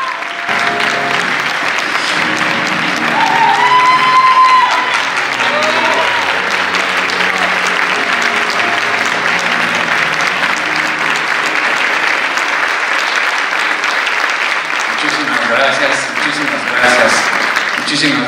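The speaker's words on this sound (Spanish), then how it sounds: "que me emociona ese aplauso" Sustained audience applause fills a theatre awards ceremony held by a Spanish-language theatre journalists' association, a dense, steady clapping from a large crowd that holds at full strength throughout with a brief swell early on.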